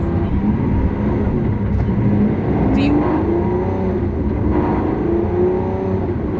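A Lamborghini Aventador SVJ with a single-clutch transmission shifting gear automatically while driving, its loud, steady engine drone filling the cabin, with a brief change in pitch at the shift and a voice talking over it.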